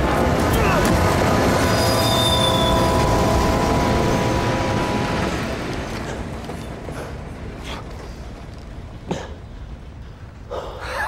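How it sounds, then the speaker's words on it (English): A runaway train rolls along the rails in a loud, dense rumble with metallic wheel squeal, gradually fading into the distance, followed by a few faint clanks. "It's a runaway train!"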